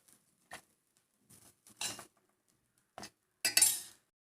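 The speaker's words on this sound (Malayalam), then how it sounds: "മിക്സി ജാറിലേക്ക് മാറ്റിയെടുക്കാം." Fried masala for brinjal curry scraped from a pan into a mixer jar, a few sparse clinks and scraping taps of a utensil against metal, close and intermittent with silence between.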